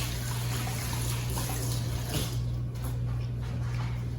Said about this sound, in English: let me rinse my hands. Of my gloves, rather